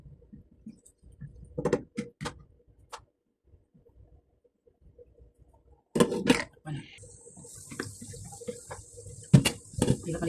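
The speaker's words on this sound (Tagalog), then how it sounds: "Lagyan natin ng tubig guys kasi yung para maluto itong karne." Water splashes and pours into a pot of meat being cooked, amid clinking and scraping of kitchen utensils, loud and close, with brief quiet gaps.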